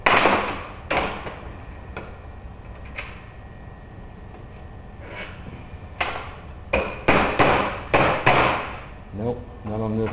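A copper cable lug for an EV battery cable is worked in a vise, giving sharp metallic clanks and knocks in irregular bursts, loudest and most rapid toward the end, with quiet stretches between.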